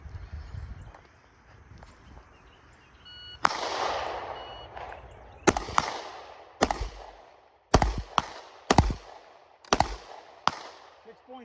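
Gunshots on a shooting range crack out sharply in a quick string of about seven reports after a quiet lead-in, each followed by a short decay.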